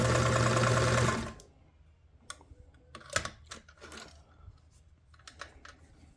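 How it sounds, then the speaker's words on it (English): A Singer 328K sewing machine runs in a loud, steady whir for about a second and then stops, followed by scattered light clicks and taps of handling. "Sews nice and slow after I adjusted that pedal,"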